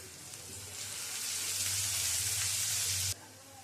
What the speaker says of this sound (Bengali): পেঁয়াজ কুচিটা দিয়ে পেঁয়াজ কুচিটা ভেজে নেব